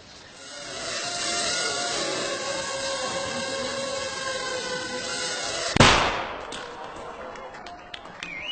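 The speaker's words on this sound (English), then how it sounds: "That little bang is enough to penetrate the skull and destroy the contents." A small 3-gram shaped-explosive charge on a drone weapon goes off with a single sharp, loud bang over a steady background hum, followed by a brief ringing tail.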